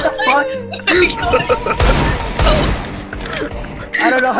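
Gunfire from the video game CS:GO rings out in rapid bursts and loud booms amid chaotic play, with players talking over and between the shots.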